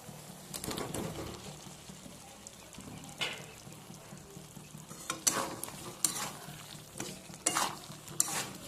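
Bengali-style spice paste being sautéed in oil for a bhetki fish curry, a soft continuous sizzle with intermittent scraping and clinking of a spatula against the pot, fairly quiet and close, with no talking.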